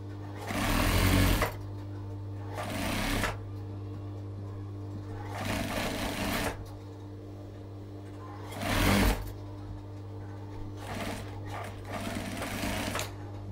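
A sewing machine stitches a circular decorative pillow for a Moroccan salon, running in several short bursts of rapid, steady whirring separated by brief pauses, one burst louder than the rest, with a constant low hum underneath.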